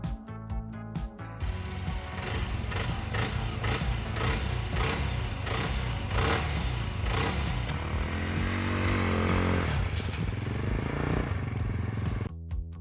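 A cheap quad ATV fitted with tracks instead of wheels cranks in short bursts, then catches and runs, its small engine putting out a steady, buzzing, rattling idle with some revving, near and loud, before it shuts off.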